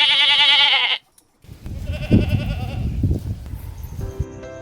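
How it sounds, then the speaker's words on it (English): A mountain goat gives a loud, wavering bleat for about a second. It is followed by a short silence and then a busier stretch of thumps and other animal-like calls. "Oh, this is a mountain goat."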